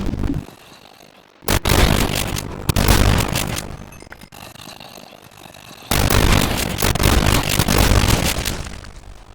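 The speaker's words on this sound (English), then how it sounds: "The shotgun's pretty banging though." Shotgun blasts in a zombie video game: two loud, sharp bursts, each followed by a sustained broadband rumble, the second running to the end.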